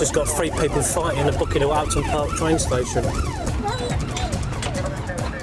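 A police vehicle siren on a London police dog van wails in repeated rising and falling sweeps while someone talks over it.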